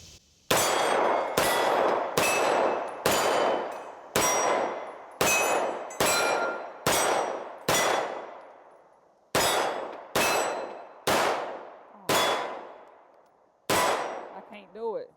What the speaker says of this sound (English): I just want to see how fast you can shoot.